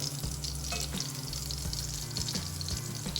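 Bouletten meat patties frying in a pan, a constant moderate sizzle with small spits and crackles and a few soft knocks, close by with no talking.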